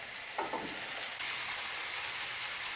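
Onions and ground beef fry in a pan with a steady, dense sizzle, close and even throughout, and a brief stirring scrape early on.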